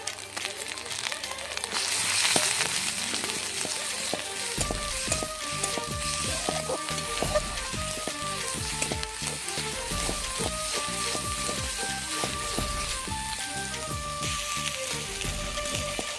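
Ginger, garlic, cumin and black pepper paste fries in a pan, a dense bright sizzle that carries on steadily throughout, with a rhythmic tonal pattern layered over it for most of the clip.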